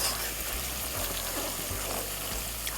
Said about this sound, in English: I'm frying it so that it will infuse its flavor in the oil.